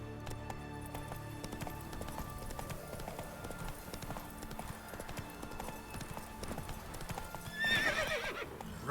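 Roach, the horse from the video game The Witcher, gallops with a steady, rapid clip-clop of hooves, then lets out a sharp, loud neigh near the end.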